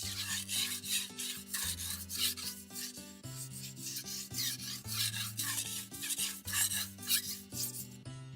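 Knife blade being sharpened to raise and remove a burr, captured close on a mic in a rhythmic series of firm rasping strokes, roughly two per second, scraping steadily back and forth with no talking.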